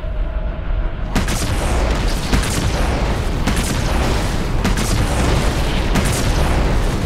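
Bombardment explosions in Halo 2 Anniversary roar as a dense, sustained wall of booms, loud and close, with several sharper blasts punching through the rumble after a brief quieter opening.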